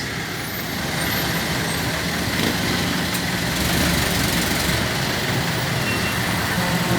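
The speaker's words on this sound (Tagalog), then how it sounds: "Masyadong traffic guys dito sa Gapang ng Besia guys." Heavy, slow-moving road traffic near a bridge hums steadily with idling truck, bus and car engines, a loud continuous rumble close by with no talking.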